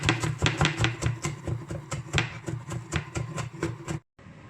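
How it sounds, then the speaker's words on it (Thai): Rapid, steady knife chops coarsely chopping garlic on a cutting board, a dense run of sharp thuds close by, ending abruptly with a brief silence. "กระเทียมสับหยาบหยาบ"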